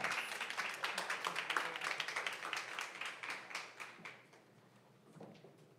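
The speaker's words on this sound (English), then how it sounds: "Please give them a round of applause." A conference audience claps for two panelists joining the stage at an accessibility-in-tech event, a burst of applause that swells, holds, then tapers off to a few scattered claps near the end.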